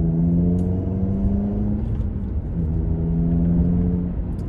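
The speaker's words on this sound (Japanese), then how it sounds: "このマフラー音が心地いいですね" A Honda Civic Type R 2.0 Euro with an aftermarket exhaust idles with a deep, smooth exhaust burble, steady and moderately loud, with a slight rise and fall in pitch.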